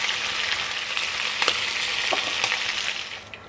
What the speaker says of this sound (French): On colore bien la viande sur toutes ses faces